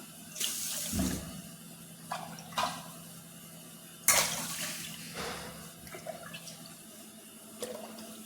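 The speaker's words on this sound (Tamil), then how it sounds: "ஆறு கப் தண்ணி ஊற்றிக்கிறேன் நாலு மடங்கு தண்ணி ஊற்றுறேன்" Water splashes and pours in several separate bursts into a pot, six cups for Chettinad-style ven pongal, with short pauses between pours and quiet background hum.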